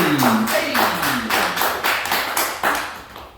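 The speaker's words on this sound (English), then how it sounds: "Any other Generation X people in here? Round of applause." A small comedy-show audience clapping in a steady rhythm, about a dozen sharp claps, close and loud, with a voice calling out at the start.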